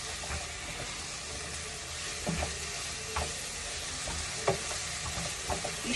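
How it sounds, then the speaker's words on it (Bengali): Masala paste of tomato, onion, ginger and garlic frying in a pan, a continuous close sizzle broken by repeated scraping stirs at irregular intervals, with no voices. "একসঙ্গে কি ভাজা কষিয়ে নেবো মশলার সঙ্গে ভালো করে"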